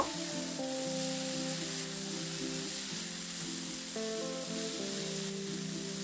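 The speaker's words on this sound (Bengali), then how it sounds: "এবার নাড়াচাড়া করে শাকটাকে সবজির সঙ্গে খুব ভালো করে একটু মিশিয়ে দেব।" Bathua greens and vegetables, salted, stirred in a hot pan, with a steady sizzle and frying hiss running the whole time and soft scraping of the stirring beneath it, close and continuous with no talk.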